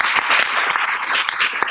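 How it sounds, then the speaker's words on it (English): A school board meeting audience applauds DECA students, a brief burst of dense, loud clapping from many people, continuous and close. "Let's give them a round of applause."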